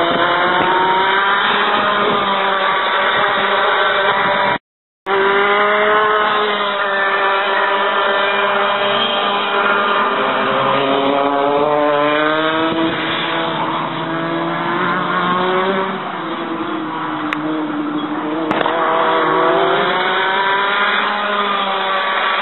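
Race cars lap a circuit, engines rising and falling in repeated passes with clear revving sweeps, loud and continuous over the whole stretch with a brief cut partway through.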